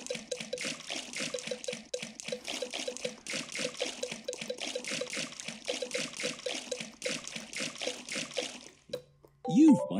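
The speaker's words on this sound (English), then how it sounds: "Peppa and George love splashing in the pool" Cartoon characters splash in a pool in a Peppa Pig holiday video game, a quick rhythmic run of small watery splashes repeating steadily before a brief pause and a chime.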